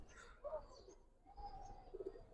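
Low, throaty coos from two male Giribaz pigeons roll out a few times, fairly close and otherwise quiet, with a faint chirp near the start.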